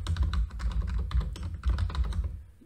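Rapid keystrokes on a computer keyboard while Java code is being typed, a close, loud, uneven run of clicks that thins out and stops near the end.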